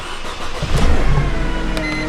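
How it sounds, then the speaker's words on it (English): A car engine cranks and catches, a loud close start that swells into a running rumble with no talk over it. "So we're going to start the vehicle up."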